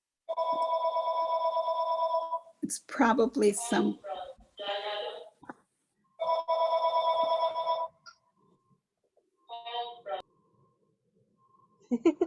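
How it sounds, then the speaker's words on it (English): A telephone rings in two long bursts of regular electronic trills, loud and close, broken by a stretch of talking between them, with more voices following the second ring. "unfortunately, of course, the phone would ring."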